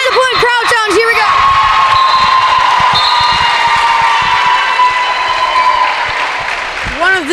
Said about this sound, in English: Crowd sounds.